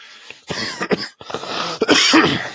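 Several loud, close coughs in quick succession from a persistent month-long cough, rough and throaty, with brief pauses between bursts.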